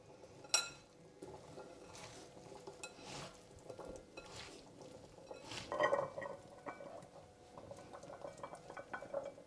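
Chickpea salad being stirred and tossed in a bowl, with soft scraping and occasional light clinks of a utensil against the dish, fairly quiet and close, with no talking.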